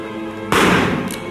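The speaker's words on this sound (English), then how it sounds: "Indoor gunshot." A single indoor gunshot sound effect for game audio rings out in a concrete room, a sharp loud crack followed by a short reverberant tail, with a faint second burst just after.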